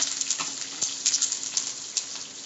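Mustard seeds spluttering in hot oil on a gas stove, a continuous bright sizzle dotted with sharp little pops and crackles, close and fairly loud with no talking.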